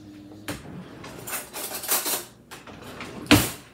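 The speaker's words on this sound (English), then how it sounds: "Let me grab another spoon." A spoon clinks against dishes at a dinner of prime rib and cauliflower au gratin: a few close metallic taps and scrapes, ending in one sharp, bright clatter.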